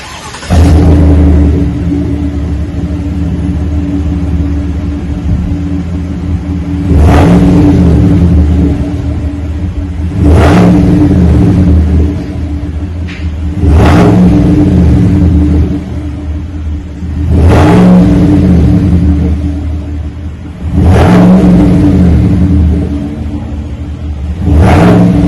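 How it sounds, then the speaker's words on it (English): A 2021 GMC truck with a Flowmaster 40 muffler replacing the factory muffler, factory converters retained, revs repeatedly over a steady deep idle rumble, with about six loud rises spaced a few seconds apart, close and alone. "Took the factory muffler off, installed a Flowmaster 40 on there, but did leave all the factory converters on there as usual."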